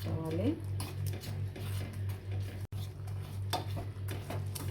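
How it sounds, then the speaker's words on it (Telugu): A ladle scrapes and clinks against a pan while thick khova sweet mixture is stirred, a steady soft rhythmic scraping under a constant low hum, with someone talking alongside. "ఇలా స్మూత్గా గంటితో ఇలా నలుపుకుంటూ తిప్పుకుంటూ ఉడికించుకోవాలి"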